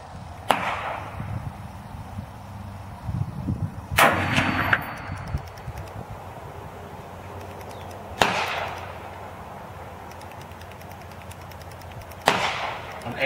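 An M1A rifle fires four sharp, loud gunshots outdoors at a shooting range, spaced about four seconds apart, each with a short decaying tail over a quiet background.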